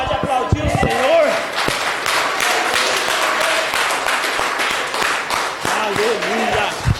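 A church congregation claps and cheers during worship, a sustained wash of applause with scattered shouts and a voice calling out over it at the start and end.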